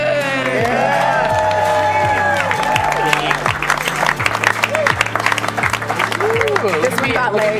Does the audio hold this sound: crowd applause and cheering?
yes